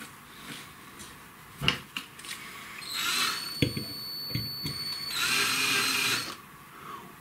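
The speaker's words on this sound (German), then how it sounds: "da schraube ich das jetzt mal fest" A power drill drives a screw down into an emergency radio case build, two whirring runs of a couple of seconds each, close, after some clicks and knocks of handling.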